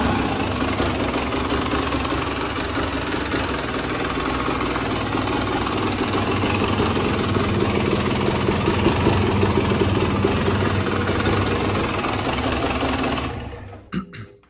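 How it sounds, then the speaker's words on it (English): A 2023 KTM 300 EXC two-stroke dirt bike engine runs at a steady, loud idle, close by, for most of the stretch before cutting off abruptly near the end; no one speaks. "so let's start the bike and let's go"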